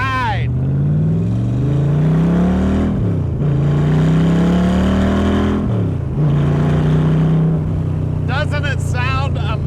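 A Kirkham aluminum-body Cobra accelerates through the gears, its loud engine note rising in pitch, dropping at each shift and climbing again three times, with a voice briefly audible near the end.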